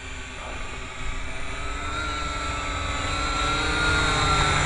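A Syma X8C quadcopter drone flies nearby, giving a steady high-pitched whining buzz from its propellers that shifts in pitch and grows gradually louder.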